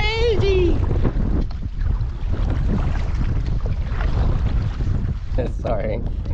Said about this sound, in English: It was only supposed to be 13 kilometer hour winds today. It's crazy here.